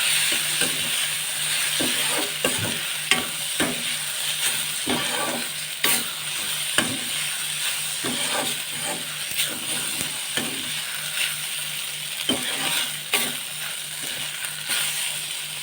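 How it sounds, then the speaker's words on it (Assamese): Pasta being stirred in a frying pan with cooked tomatoes: a steady sizzle runs throughout, broken by frequent scraping clicks and knocks of the utensil against the pan, fairly close and continuous with no talking. "এতিয়া মই পাস্তাখিনি ইয়াত দি দিছোঁ। অকণ লৰাই দিওঁ।"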